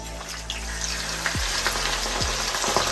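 Plain unbattered fish, Jamaican style, fries in very hot oil in a pot, giving a steady close crackling sizzle with a couple of low clunks from the pot or utensil.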